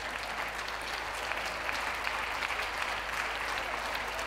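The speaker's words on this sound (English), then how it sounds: "please a round of applause to those leaving the ring" An audience claps for dogs and handlers leaving the show ring at the Bath 2014 dog show. The applause is a steady, even patter that runs the whole stretch, fairly soft and distant, with no talk over it.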